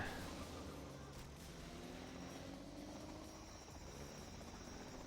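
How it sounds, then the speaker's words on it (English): Combat Chinook helicopters in the strategy game Zero Hour give off a faint, steady rotor drone that holds evenly through the whole stretch, with no voices. "Combat Chinooks on the ground."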